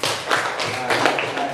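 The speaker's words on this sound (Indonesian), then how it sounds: "beri tepuk tangan dulu untuk temannya" Classroom applause for a classmate, a dense wash of many hands clapping at once, steady and moderately loud throughout with a few sharper bursts, no talking over it.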